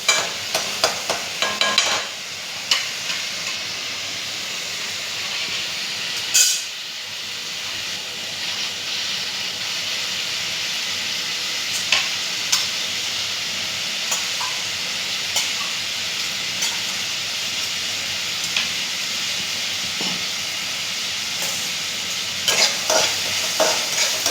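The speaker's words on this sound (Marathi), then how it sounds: "आता थोडीशी शिमला मिर्च आणि टोमॅटो ॲड करायचा आहे. छानसं फ्राय होऊ द्यायचं आहे." Capsicum and tomato fry in a pan for children's pasta, giving a steady loud sizzle and hiss throughout with occasional scraping stirs, no voices.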